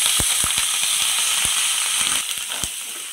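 Curry leaves dropped into hot oil for an egg masala curry crackle and sizzle loudly, with a dense hiss broken by a series of sharp pops close by, the frying easing slightly toward the end.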